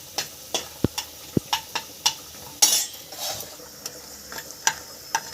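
Bori lentil dumplings fry in a pan for a Bengali cauliflower stem charchari: a soft, steady sizzle runs underneath while a spatula scrapes and taps the pan in sharp, regular clicks, with one louder clatter midway.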